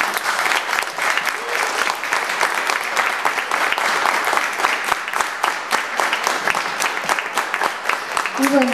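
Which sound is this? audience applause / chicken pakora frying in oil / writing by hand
audience applause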